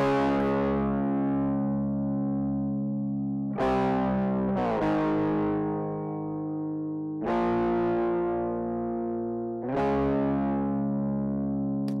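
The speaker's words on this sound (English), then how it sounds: "I think it replicates the tube screamer, which was a guitar pedal from, I believe it was Ibanez." Electric guitar through a Tube Screamer-style overdrive pedal emulation, four sustained distorted chords struck at roughly three-second intervals and left ringing, thick and gritty, no voices.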